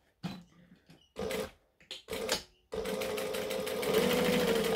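Sewing machine stitching across fabric, a few short stop-start bursts of needle clatter, then a long continuous run, loud and close with no voices.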